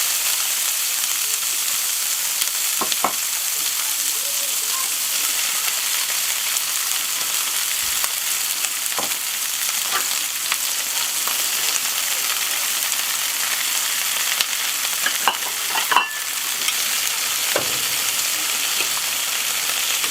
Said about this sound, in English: The cast iron plate is on medium-high heat. We're going to add some olive oil to it. And then we're going to throw on our vegetables.